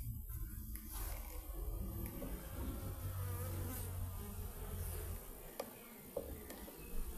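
Honey bees buzz around an opened hive during an inspection, making a dense, continuous drone that stays close and steady with no talk.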